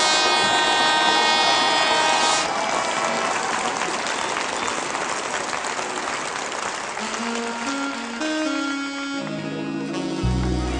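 A church congregation breaks into sustained applause in praise of Jesus, a dense, steady clapping that fills the whole stretch, with musical tones rising beneath it toward the end.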